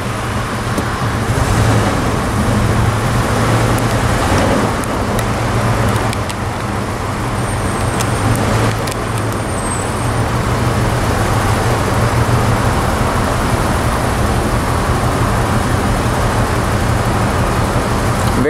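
Traffic around Circuit of the Americas in Austin, a dense, continuous roar of cars on the road with steady low engine rumble and tire noise, loud throughout, with a brief faint whine overhead.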